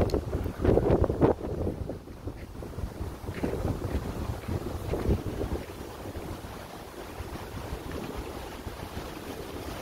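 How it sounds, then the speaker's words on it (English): Strong wind gusts roar over choppy lake water on a chilly day in the North Woods, buffeting the microphone loudly at first and then settling into a steady rushing blow. "It's kind of a windy day up here in the North Woods, pretty chilly actually."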